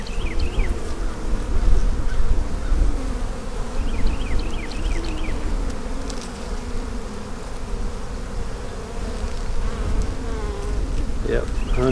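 A dense swarm of honey bees hums loudly and steadily during a spring hive inspection in a bee yard, with the close drone of individual bees weaving through the constant buzz and no talking.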